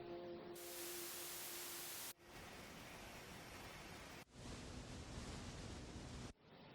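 Noise from a Battersea Audio Polygrade synthesizer switching between several types, from bright hiss to darker rushing static, each block cut off abruptly, steady and alone with no talking.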